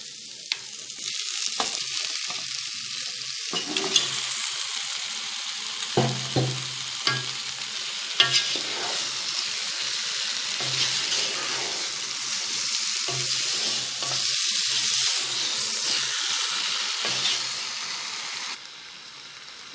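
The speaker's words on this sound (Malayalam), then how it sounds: "ഇതിലേക്ക് നമുക്ക് ചിക്കൻ ചേർത്ത് കൊടുക്കാം" Two kilograms of chicken sizzle and fry in tomato masala for a Kerala chicken curry, a steady loud hiss with repeated scraping and clanking as it is stirred.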